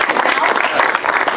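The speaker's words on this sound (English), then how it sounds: "Let's give Kevin a big round of applause" A brief burst of close, loud audience applause at a startup accelerator presentation event, packed claps filling the whole moment.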